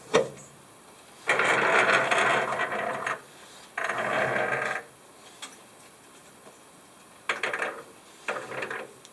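A rock slab saw carriage on a shaft-driven feed makes a steady mechanical whirring in several separate bursts, each lasting a second or two, with quiet pauses between them.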